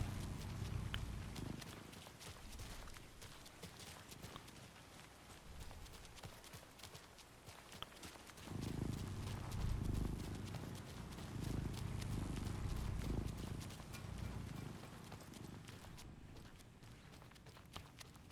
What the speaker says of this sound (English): I like how the generators sound like a cat is purring.